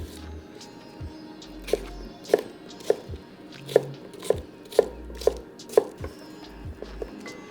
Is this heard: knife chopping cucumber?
yes